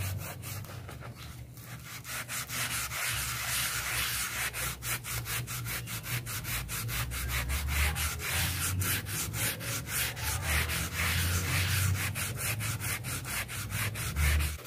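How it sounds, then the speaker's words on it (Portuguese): A warm, dirty clothes iron being scrubbed with a dry sponge gives a close, continuous run of fast, rhythmic rasping strokes that lasts about fifteen seconds, with no talking. "vocês vão esfregando, ó, vão esfregando aonde tá sujo, com ferro morno"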